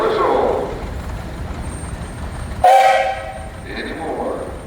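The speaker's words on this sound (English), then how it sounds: "And you got a whistle." A steam traction engine at a parade sounds its whistle in one short, loud, tonal blast partway through, over outdoor crowd noise and an announcer's voice.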